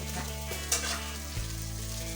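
Food frying and sizzling steadily in a hot pan while lad na is cooked, loud and close with occasional stirring clatter, no talk.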